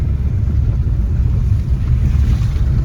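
Floodwater of the Navli river at Savarkundla, Amreli, after torrential rain, rushing in a loud, continuous roar with heavy wind buffeting the microphone.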